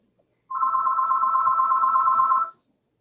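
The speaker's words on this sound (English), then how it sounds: "Sorry about the weird gong sounds at the beginning of that." A steady electronic gong chime, automatic, holds for about two seconds, clear and alone, then cuts off abruptly.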